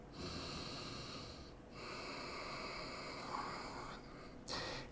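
Slow, deep breaths during a yoga class pose, long steady airy inhales and exhales close to the ear with a faint snort-like rasp, no talking.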